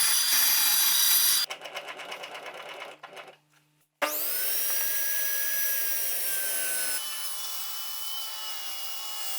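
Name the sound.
bandsaw rough cutting hardwood board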